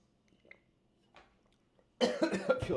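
A few faint throat sounds, then a loud, close burst of harsh repeated coughing.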